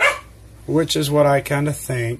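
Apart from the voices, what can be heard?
dog barking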